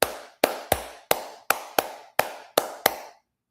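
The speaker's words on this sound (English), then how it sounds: "I'm clapping my hand." Hands clapping indoors: eight sharp, close claps in an uneven rhythm, mostly in pairs, each with a short ringing decay, then silence.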